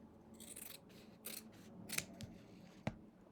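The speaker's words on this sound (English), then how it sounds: "Trim any excess thread." Scissors trim excess thread from a quilt block, making several soft, close snips and faint rustles in an otherwise quiet room.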